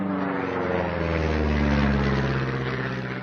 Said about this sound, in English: and then the aeroplane going overhead